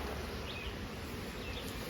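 Honey bees at a nucleus hive give a dense, steady buzz close up, continuous and unbroken with no voices.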